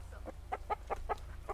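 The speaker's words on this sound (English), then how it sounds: "Oh, here goes the rooster." A backyard homestead rooster clucks in a quick series of about seven short, nasal bursts, fairly close and loud over a low steady background hum, with no talking.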